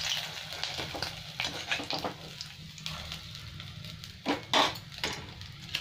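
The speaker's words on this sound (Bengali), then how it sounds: "এই তেলের মধ্যেই একটু আমি গরম মশলা দিয়ে দেবো।" Whole garam masala spices, bay leaves, dried red chillies and cinnamon dropped into hot oil left from frying fish, giving a crackling sizzle broken by sharp clinks and scrapes of a utensil against the pan.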